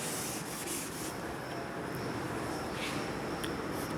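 Steady, close rubbing and scrubbing as writing is erased from a board during a maths lesson, a continuous dry friction sound without pauses or talk.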